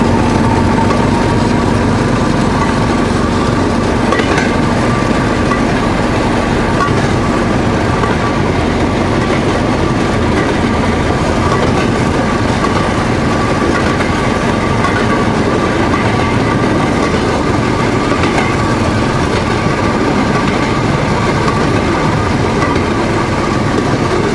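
Rail motor trolley rolling along the Alapayevsk narrow-gauge railway toward Yelnichnaya, a steady close engine drone with continuous rumble and faint wheel clatter throughout, no talk.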